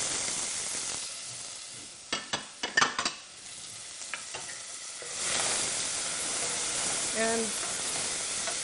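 Finely chopped onions and whole cloves fry in a pan for chicken korma, a steady low sizzle with a few sharp stirring clatters partway through and a brief spoken word early on.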